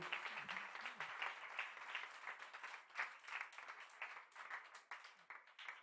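A crowd breaks into steady applause, many hands clapping together at a moderate distance, with a voice briefly heard at the start.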